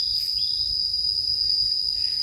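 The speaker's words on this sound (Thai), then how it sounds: "ได้ยินแต่เสียงแมงจักจั่นจิลีดบ่อีหยัง" Steady, shrill insect buzzing of cicadas drones continuously at high pitch over a low rumbling background, with no pauses.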